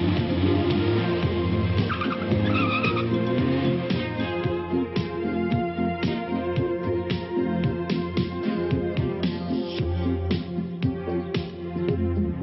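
A car in a 1982 French film drives away with a steady, dense engine roar and tire noise. It stays loud and constant throughout, with faint higher squeals mixed in.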